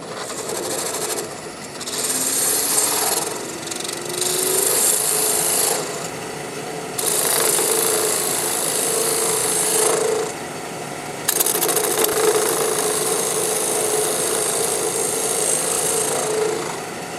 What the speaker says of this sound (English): I'm going to use the same small detail gouge, fingernail grind,